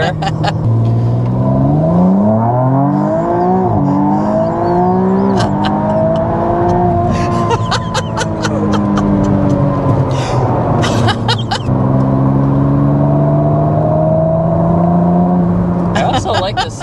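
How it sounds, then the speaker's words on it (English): A 2025 McLaren Artura Spider driven hard with the roof down, its mid-mounted engine rising in pitch through repeated gear changes with turbo whoosh, loud and close throughout, with people talking over it. "the engine is right behind you, so you really hear so much of the turbo"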